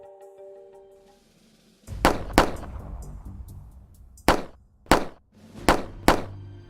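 Five sharp gunshots ring out in two quick pairs and then a final pair, each a loud crack with a short echo, over a quiet background.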